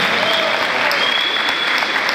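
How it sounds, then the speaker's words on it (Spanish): Audience at a handball event applauds the girls' teams, a dense, steady wash of many hands clapping at close range, filling the whole moment without a break. "aplauso para las chicas"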